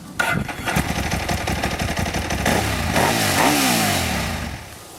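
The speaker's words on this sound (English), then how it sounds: "Let's check out this awesome 2007 Ducati 1098." A 2007 Ducati 1098 sport motorcycle engine runs loud and close, a rough, steady mechanical roar that swells slightly and then tapers off near the end, with no talking.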